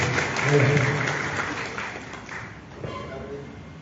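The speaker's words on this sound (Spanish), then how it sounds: "Recibimos nuevamente con fuertes aplausos, por favor, a Luis Servias y a Juan Martínez." Audience applause at a book presentation honoring a writer in Chimbote, a fairly loud burst of clapping at the start that thins and fades over a few seconds, with some voices mixed in.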